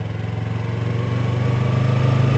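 A motorcycle engine runs steadily in gear with a little throttle, a continuous close mid-pitched drone that holds even and rises slightly in loudness over a couple of seconds.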